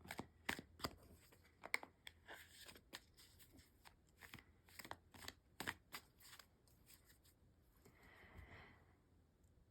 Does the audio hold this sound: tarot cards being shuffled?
yes